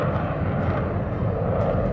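The jet engine of the Loyal Wingman military drone gives a loud, steady roar with a deep rumble, filling the whole moment without pause.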